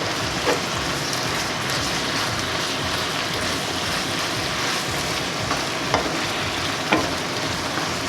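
Flour being stirred into a chicken and cream sauce in a pan, with a steady bubbling sizzle throughout and a few faint utensil taps against the pan.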